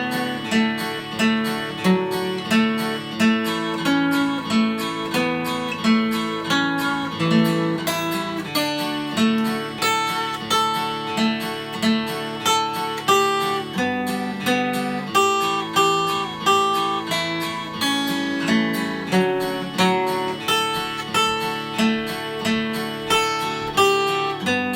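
A bluegrass guitar picks a skeletal version of the fiddle tune Ragtime Annie, sounding only beats one and three of each bar, over a steady, dense backing that runs for about twenty-five seconds without talk.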